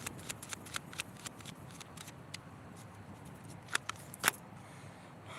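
Tarot cards being shuffled by hand, a quiet run of soft riffling flicks and light taps, with a couple of sharper snaps near the end.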